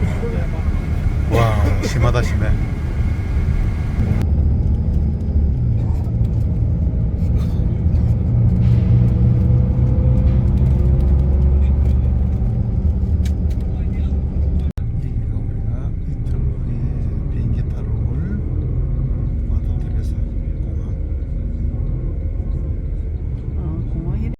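A bus travelling through mountains in Albania gives off a continuous low engine rumble and road drone from inside the cabin for a long stretch, with an occasional shift in engine note and people talking over it.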